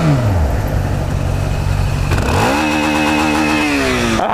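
A motorcycle engine revs up loudly nearby, pitch climbing, dipping, then rising again in a strong rev, with no talking.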